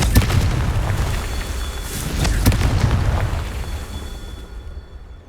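Hogwarts Legacy's Confringo blasting spell goes off in loud, booming explosions: sharp cracks near the start and midway over a continuous roaring rumble that slowly dies away.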